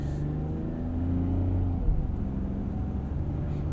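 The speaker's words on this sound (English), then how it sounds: "I do like the way these turbocharged 3-cylinders sound." Throaty turbocharged three-cylinder engine hum in a 2021 Ford Bronco Sport Big Bend, with a gently rising drone as it pulls, steady and close, heard from inside the vehicle without talking.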